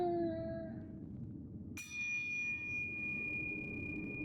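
A bell rings in Sekiro: Shadows Die Twice, a clear sustained metallic tone that fades, then a fresh bright strike near the middle that rings on steadily to the end.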